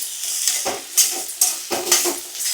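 Onions fried with a pinch of salt in a pan for bommidaalu curry, stirred with a utensil: a steady sizzle broken by several distinct scraping, clinking strokes against the pan, close and fairly loud.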